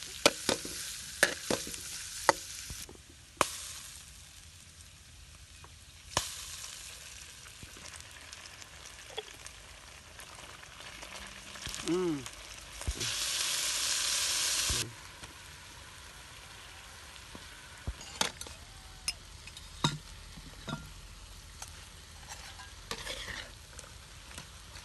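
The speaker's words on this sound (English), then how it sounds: "We cooked frogs with lemongrass and prickle lime" Frogs stir-frying with lemongrass and prickle lime in a pan, steady moderate sizzle with clattering stirring strikes throughout and a brief louder hissing burst near the middle, no talk.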